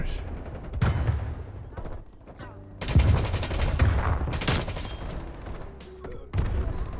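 The War Machine weapon in Call of Duty: Cold War fires in loud, punchy bursts amid rapid gunfire, several heavy blasts crowding together in the middle, with voices talking over the firefight.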